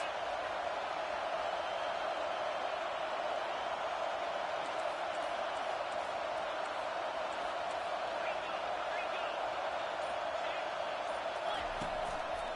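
Stadium crowd noise from a college football video game, Colorado at Miami, a steady, dense roar of cheering that holds at an even level throughout without letting up.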